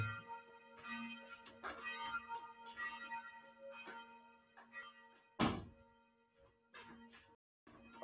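Church bells ring with sustained, overlapping tones, punctuated by a sharp thunk partway through; fairly faint and distant.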